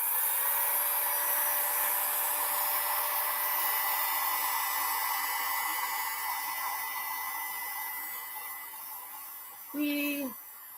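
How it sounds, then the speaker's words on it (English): Heat gun blowing hot air, a loud, steady, hissing whoosh with a high motor whine that runs continuously and tapers off near the end, where a short voice cuts in. "my heat gun obviously blows a lot more hot air"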